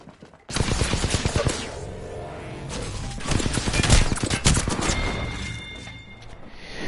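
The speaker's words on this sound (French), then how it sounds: "On me tire dessus." Rapid bursts of automatic gunfire in the video game Apex Legends, loud and close, with dense overlapping shots and booms sustained across the whole stretch.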